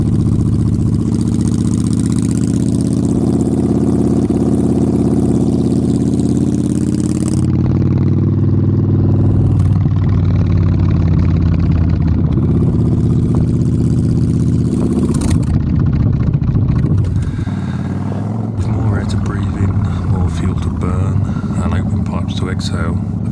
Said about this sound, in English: The engine sounds like a V-twin should and never misses a beat.